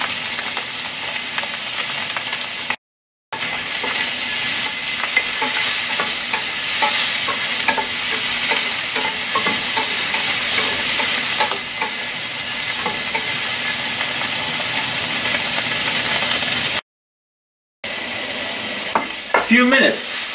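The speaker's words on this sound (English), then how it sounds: "We're just gonna throw in the scallop. Just give them a quick sear." Scallops sear in a smoking-hot pan with a loud, dense sizzle and spitting hiss, broken by two brief silent gaps and followed by a few clinks near the end.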